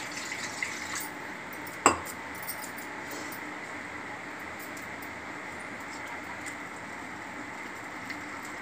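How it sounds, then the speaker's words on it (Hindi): Half a glass of water is poured into a hot, badly burnt iron kadhai on a gas stove, giving a steady hiss and sizzle with a sharp splash near the start and no talk. "गैस को ऑन करके हम इसमें"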